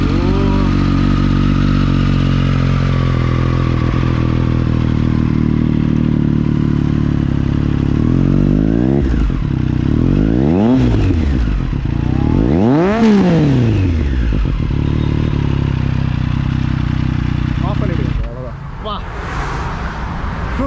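Triumph Street Triple RS with an Akrapovic slip-on exhaust, idling steadily and then blipped through several sharp revs that rise and fall, close by, with people talking over it.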